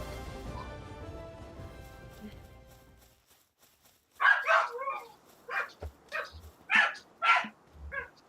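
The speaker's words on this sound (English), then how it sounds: "With the sound of Cyber's dogs, or at least Cyber's roommate's dogs" Dogs barking in a few separate bursts, moderately near, after a stretch of steady background hum that fades out first.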